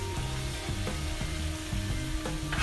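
Vegetables with corn, garlic and butter sizzle on a Blackstone griddle, a dense, loud hiss running without pause beneath a repeating tonal hum, with no voices.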